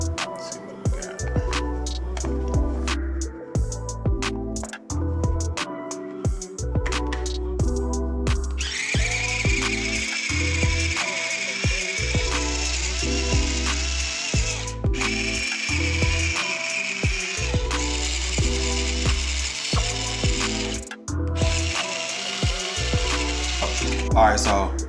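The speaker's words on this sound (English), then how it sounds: "we got all the Dill grinded up" Dried, stringy dill broken up and ground in a bladed grinder, a loud whirring buzz repeated in several short and long bursts, with pauses between pulses and a steady high grinding whine in the middle and later stretches.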